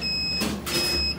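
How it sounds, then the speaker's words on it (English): A refrigerant recovery machine, used while servicing a warm reach-in freezer, gives a steady high electronic beep tone that holds, breaks off briefly, then resumes, over a low mechanical hum. "I like how it beeps at you to let you know it's done."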